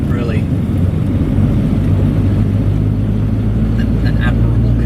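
Triumph Acclaim L car on the move, a steady low engine and road rumble heard from inside the cabin, continuous and fairly loud with faint brief higher noises.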